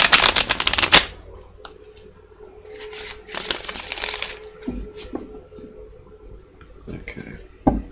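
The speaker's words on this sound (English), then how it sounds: "One more shuffle." Tarot cards riffle and flutter in quick bursts, with a sharp shuffle at the start and scattered softer taps and clicks afterward, close to the microphone.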